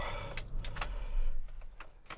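Car keys to a W124 Mercedes-Benz jangle as the key is pulled from the ignition, a few bright metallic rattles over a low idling engine hum, close by.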